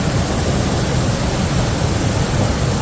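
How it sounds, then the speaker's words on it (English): A small cascading waterfall pours in a steady, dense broadband rush, close and fairly loud throughout with no voices. "Cascading waterfall."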